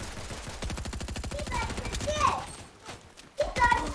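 Rapid automatic gunfire from the Fortnite video game, a steady burst of repeated shots that runs through most of the stretch, with a voice talking over it near the end.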